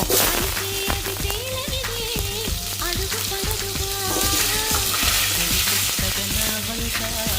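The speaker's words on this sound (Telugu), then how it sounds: "మా ఆయిల్ మరిగిపోయింది కొంచెం జీలకర్ర వేసుకున్నాం అదేలాగా కొంచెం ఆవాలు మెంతులు వచ్చి ఒక మూడు నాలుగు వేసుకుందాం" Cumin, mustard and fenugreek seeds fry in hot oil, for a Nellore-style fish curry, with a dense, even sizzle and crackle. Steady music plays throughout, and no one speaks.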